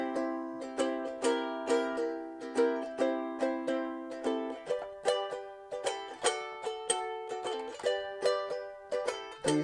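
Ukulele chords strummed with a clip-on chord changer device, bright repeated strums in a steady rhythm, each chord ringing and decaying before the next, shifting through several chord changes, played alone without talk.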